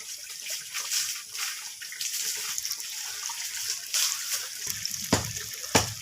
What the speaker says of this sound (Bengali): এখন আমি একে একে কোপ্তাগুলোকে ভেজে নেব।